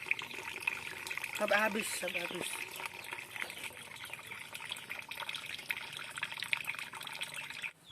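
Water draining out of liquid organic fertilizer, a soft continuous trickle and splash with faint dripping, under a voice speaking briefly near the start.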